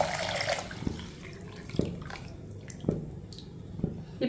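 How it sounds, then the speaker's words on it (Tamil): Beetroot and carrot juice poured into a cooking pot, a soft continuous liquid splash with a few distinct drips and plops, faint and close. "பீட்ரூட் கேரட்டு ஜூஸை தூக்கி அதில் ஊற்றிடுவோம்."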